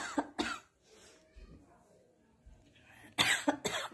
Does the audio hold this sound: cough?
yes